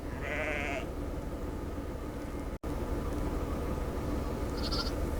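Young Angora goats and sheep on a farm conservancy bleat in the open: one clear, wavering bleat at the start and a shorter, fainter cry near the end over steady outdoor background noise.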